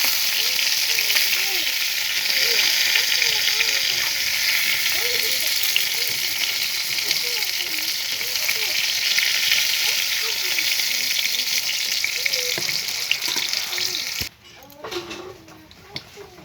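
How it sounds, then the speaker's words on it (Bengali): Fried pointed gourd slices sizzle steadily in hot oil, a loud continuous hiss with small clinks as a ladle lifts them out, the frying cutting off abruptly near the end. "এখন হাতা দিয়ে পটল ভাজাগুলো তুলে নিচ্ছি"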